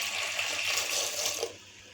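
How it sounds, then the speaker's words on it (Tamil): Water pours steadily into a cooking pot for Tamil paruppu puli rasam made with tamarind, lentils and coriander, a loud continuous splashing stream that stops abruptly after about a second and a half. "இப்போ இதுக்கு தேவையான அளவு தண்ணி ஊற்றிக்கலாம்"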